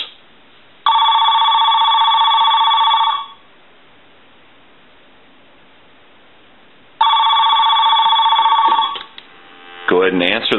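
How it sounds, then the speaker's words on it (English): An AT&T Mickey Mouse 210 telephone's bell rings loud and near in two long bursts, each lasting about two to three seconds, separated by a silent pause, with a short clatter at the end. "I'll go ahead and ring the phone."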